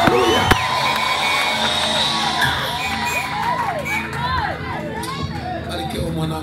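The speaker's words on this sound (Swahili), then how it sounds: "Jamani, makofi kwa Bwana Yesu." A church congregation cheers and shouts loudly and continuously, with high whoops rising above the crowd, while a voice speaks over the noise.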